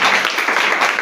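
Church congregation applauding together, a dense, steady wash of clapping from many hands that fills the space without a break.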